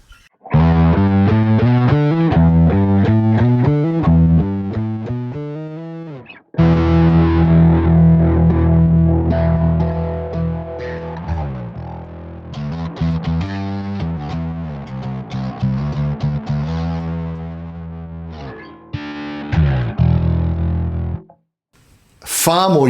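Bass guitar run through a guitar distortion pedal on a parallel path, only the range above 150 Hz distorted and blended with the clean signal, played as loud continuous riffs with a short pause partway and at the end.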